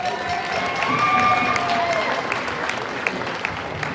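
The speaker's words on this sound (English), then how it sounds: "Please give a round of applause to Morgan Strasburg for signing." A gym crowd at a high school boys basketball senior recognition, Winslow vs Medomak, gives sustained, loud applause for about four seconds, with a voice faintly over it near the start.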